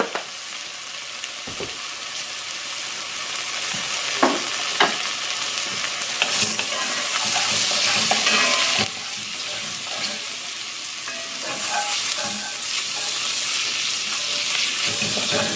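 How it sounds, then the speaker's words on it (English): Onions, salt and black pepper frying for Hungarian goulash, a continuous close sizzle with scattered utensil knocks and scrapes, swelling louder in the middle as the pan is stirred. "Those spices are releasing their oils and their flavors right into those onions."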